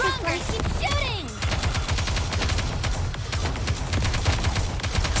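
Continuous rapid machine-gun fire in the video game Goddess of Victory: Nikke, dense and steady throughout, with a short voice line at the start.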